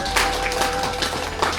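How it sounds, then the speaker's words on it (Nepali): An audience at an ashram gathering claps together with hands raised, producing a brisk, dense patter of many hands, moderately loud and close, with a faint low hum underneath and no clear speech. "माथि गरेर जोरदार ताली बजाइदिनुहुनेछ"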